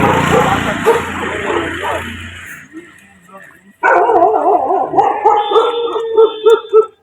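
Dogs on a school road bark and howl in loud bursts, with a long drawn howl rising and falling near the end; people talk over the first half.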